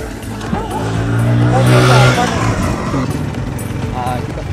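A motorized tricycle engine drones steadily at close range while riding, rising to a loud swell midway, with faint tire and road noise underneath and muffled voices nearby.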